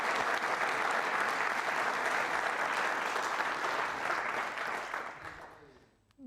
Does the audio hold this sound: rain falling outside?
no